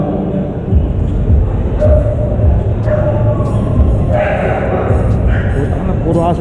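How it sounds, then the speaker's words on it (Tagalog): Exotic bully puppies fighting, with yips and barks breaking out over a constant rumbling background while people talk nearby. "Puro aso natin naglalaban-laban ah."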